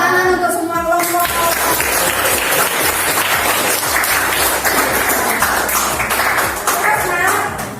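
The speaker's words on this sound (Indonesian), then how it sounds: "Tepuk tangan untuk semua kelompok." Loud, dense clapping from a classroom of students applauding all the groups, steady and close throughout, with a few voices calling out at the start.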